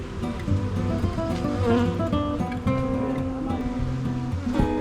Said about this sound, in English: So Alex, how'd you feel about being in there with all those bees?